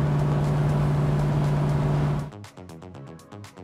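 Loud 1974 Corvette accelerating hard through first and second gear, a strong steady engine roar that holds, then breaks into a choppy, pulsing burble as the shift comes.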